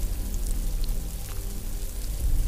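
Heavy rain pours steadily on open wild ground where lions shelter, a dense continuous patter with low rumbling underneath.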